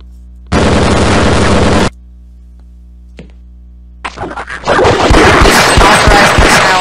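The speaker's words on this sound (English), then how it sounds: "Where is that turret coming from?" An automated turret fires in Half-Life: a sustained droning tone, a pause with a faint click, then loud rapid bursts of gunfire building into continuous fire.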